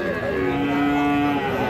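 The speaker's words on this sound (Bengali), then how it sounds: "এই যে এই পাশে একটা আমরা ষাঁড় বাছুর দেখতেছি।" A young bull calf at a cattle market lets out one long, loud, sustained moo close by.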